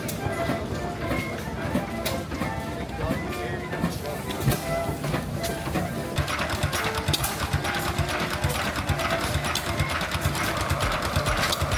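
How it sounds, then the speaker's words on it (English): An antique oil field pump engine from Pennsylvania runs with a fast, steady mechanical clatter and chugging rhythm, loud and close, with a person talking over it. "So this was used in oil fields of Pennsylvania to pump oil."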